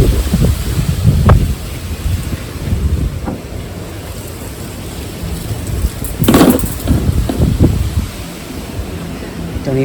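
Strong California wind gusting through a home garden with a loquat tree, heavy roaring wind buffeting the microphone in surges, with occasional rustling bursts.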